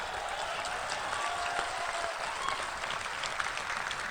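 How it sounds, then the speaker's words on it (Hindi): Steady, dense applause from an audience at a Hindi poetry recitation, even and unbroken throughout, with no voices rising above the clapping. "हमने तुम्हारी कविता पर बहुत ताली बजाई"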